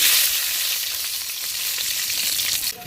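Four chillies fry in a spoonful of oil in a pan, giving a steady, close sizzle and crackle that holds evenly throughout with no voices.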